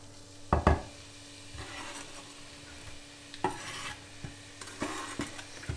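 Spring onion, garlic, red onion and chili frying in a pan make a soft sizzle, broken by a few sharp utensil knocks and scrapes as the mix is stirred, close up with no talking.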